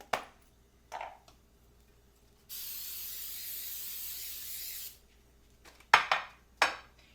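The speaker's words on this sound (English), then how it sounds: "I'm going to use coconut oil to spray it on the bottom" Coconut oil sprays into a glass Pyrex baking dish in one steady hiss of about two seconds, with light clinks and taps of glass before and after, close and quiet.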